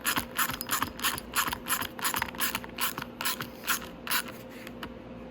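A ratchet clicks rapidly in repeated bursts while tightening a locking bolt on the headlight of a Venom 125cc motorcycle, close and crisp over a steady low background hum.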